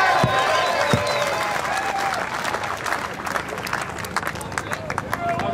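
A crowd at a footy longest-kick challenge with Cam Rayner and Sabrina Frederick-Traub claps along in a slow clap. Steady, close clapping runs throughout, with crowd noise and a brief cheer near the start.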